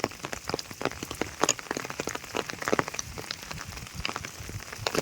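Rain falls steadily in a village, patters and drips on nearby surfaces with irregular close taps and crackles over a soft continuous wash, with no one speaking.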